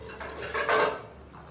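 Bowls and plates clink and clatter as they are handled at close range, a short burst of ceramic knocks with no talking.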